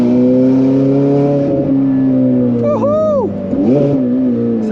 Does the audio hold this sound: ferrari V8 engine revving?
yes